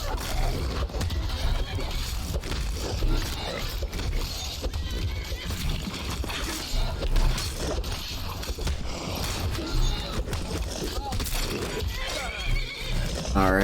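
A horse neighs in the Skyrim video game amid busy in-game combat, hoof clatter and ambient noise, with a clear whinny rising out at the very end.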